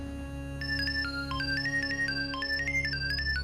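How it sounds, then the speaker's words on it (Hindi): A mobile phone ringtone plays a bright, repeating electronic melody for several seconds over a steady low hum in an indoor sitcom scene. "बजा फोन? किसका बजा?"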